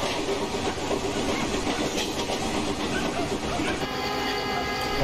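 A BCNA-wagon freight train runs on the Khandesh route in the Open Rails simulator, giving a steady, loud, continuous rumble with faint clattering wheel noise and no voices.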